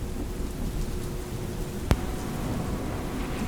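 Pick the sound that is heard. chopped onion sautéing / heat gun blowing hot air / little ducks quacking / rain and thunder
rain and thunder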